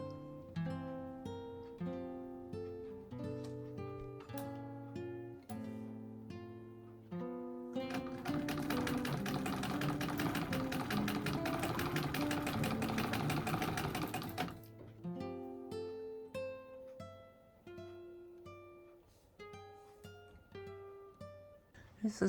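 A 1921 Singer 66-1 treadle sewing machine in a drawing-room cabinet runs in a fast, steady rhythmic clatter for several seconds in the middle, starting and stopping abruptly, with music-like tones before and after.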